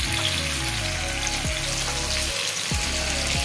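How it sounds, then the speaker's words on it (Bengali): Sliced onions sizzle in hot oil in a pan, a loud, close, continuous crackling fry with occasional stirring scrapes and no talk. "একটু হালকা ভাজা হয়ে গেছে লাল লাল করে"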